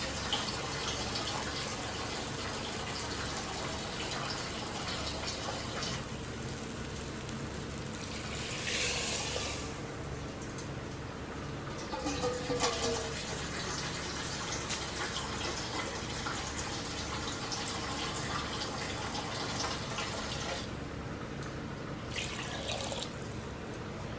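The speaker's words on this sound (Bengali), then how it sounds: "জলটা দিয়ে দেবো" Water pours steadily into a cooking pot of rice with a broad, constant rushing wash and occasional splashy swells, close and even throughout, no talk.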